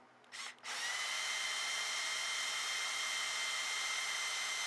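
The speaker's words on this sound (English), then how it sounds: "So we got our drill loaded." A power drill whirs up after a brief start-stop, then runs steadily at high speed spinning a valve seat for a leaking air compressor, with a constant, loud whine until the end.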